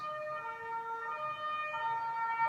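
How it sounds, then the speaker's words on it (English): A European two-tone ambulance siren wails steadily, loud and close, its stacked tones holding and then shifting pitch, with no voices. "That's a Euro ambulance sound."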